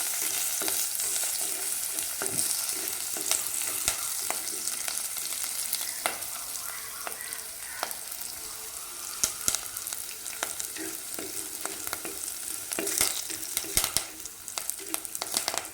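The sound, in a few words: stirring chopped ingredients and curry leaves frying in a pan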